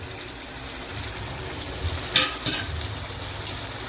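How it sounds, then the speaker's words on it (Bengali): Chicken meat sizzles steadily in oil in a pan after grated nutmeg is added, a soft continuous frying hiss with a few faint stirring scrapes, close and without talk. "মাংস মোটামুটি কষছে। এবার এর মধ্যে আমি আধাটা জায়ফলকে গ্রেট করে আমি এর মধ্যে দিয়ে দিলাম।"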